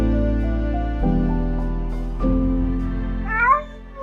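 A little kitten in distress meows in a few drawn-out, rising cries over a steady low hum, with the last call sharper and higher near the end.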